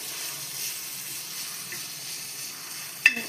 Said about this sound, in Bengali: এবার এটা দিয়ে দেবো। দিয়ে সব কিছু আরেকবার ভালোভাবে মিক্স করে নিয়ে গ্যাসটা বন্ধ করে দেবো।